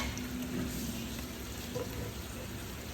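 Garlic fries in oil for a spicy pasta, making a soft, steady sizzle with faint crackle that continues evenly and quietly throughout, with no one speaking.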